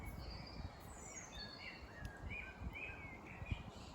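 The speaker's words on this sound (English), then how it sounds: "That bird song is only there because I'm listening to it" Birdsong drifts in from a distance, a series of thin, high chirps and short trills repeating over a soft, steady background hiss.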